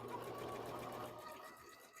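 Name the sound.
Bernina sewing machine sewing a triple zigzag stitch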